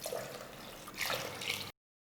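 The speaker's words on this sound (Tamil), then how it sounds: "அதுக்கேற்ற மாதிரி தண்ணி ஊற்றிக்கிங்க" Water splashes from a vessel into a pot while bisi bele bath is cooked, a brief close pour that stops abruptly.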